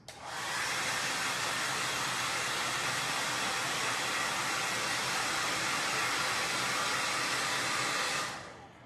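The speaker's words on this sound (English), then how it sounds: "making sure I have my dryer plugged in. I'm gonna make a little noise." A hair dryer blows in a steady, loud, continuous whoosh for several seconds, then cuts off near the end.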